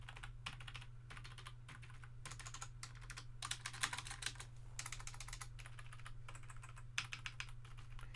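Typing on a lightweight chiclet-style QWERTY keyboard produces bursts of soft, quick key clicks in irregular clusters over a steady low electrical hum, close and fairly quiet.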